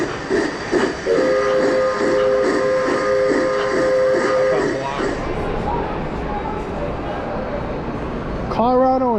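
Model train running on a rolling road at a toy train show, giving a steady mechanical hum with a repeating rhythmic clatter, loud and close, then a rising whistle-like tone near the end, with crowd talk around.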